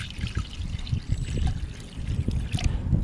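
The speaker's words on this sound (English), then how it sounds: "so I just throw in the water in the pot now" Water poured into a hot cooking pot while making Jamaican coconut drops, a steady close splashing pour with trickling through the whole stretch and no talk over it.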